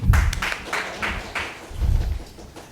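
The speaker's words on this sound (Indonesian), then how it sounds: "Tepuk tangan dong buat Pak Didit" Scattered clapping from an audience at a public hearing with a fishermen's community forum, a handful of uneven bursts over a low room rumble, fairly close and moderately loud.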